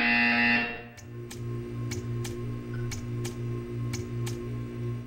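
A loud synthetic tone sounds from the video game Portal 2 and then breaks into a steady pulsing buzzer with sharp regular clicks, repeating about every half second against a low hum.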